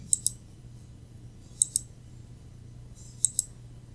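Three pairs of crisp computer mouse double-clicks, evenly spaced about 1.5 seconds apart, close and clear over a faint low background hum, made while working in graphics effects software.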